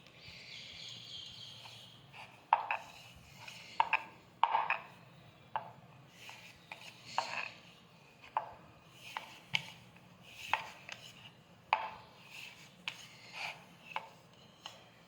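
Paratha dough is rolled out on a board with repeated soft taps and knocks from the rolling pin at an irregular, unhurried pace, fairly close and quiet.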